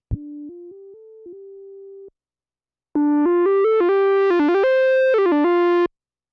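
Bright synthesizer lead from a worship-music synth, first a soft monophonic phrase of held, gliding notes, then after a pause a louder, buzzier sustained line with quick pitch bends and slides, played alone.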